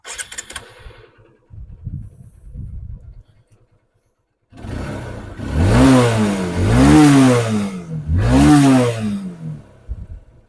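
A 2008 Hero Honda CBZ Xtreme motorcycle engine self-starts and revs in a few strong bursts, rising and falling in pitch, after some quiet handling noises.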